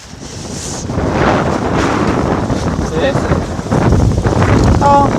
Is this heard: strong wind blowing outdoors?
yes